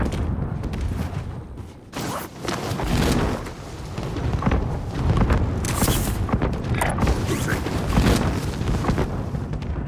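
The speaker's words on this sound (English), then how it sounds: "You've got mortars incoming!" Incoming mortar explosions in the shooter game Call of Duty: Modern Warfare, heavy booming blasts and rumbling impacts that follow one another in a loud, dense barrage across the whole stretch.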